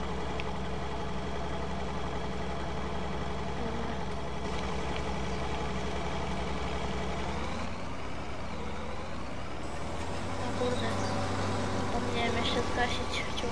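A tractor engine idles steadily in Farming Simulator 19, a low continuous rumble with a faint mechanical whine, running throughout beneath other game sounds.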